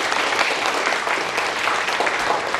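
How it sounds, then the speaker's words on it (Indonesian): A studio audience at an Indonesian TV business show claps in steady, dense applause that fills the whole moment, loud and continuous, with no pauses. "Aplaus dulu buat kita semua."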